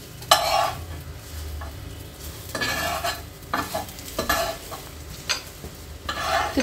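A cheese omelet cooks in a pan: soft sizzling runs under repeated scraping and stirring bursts from a spatula, close and fairly loud, with no talking.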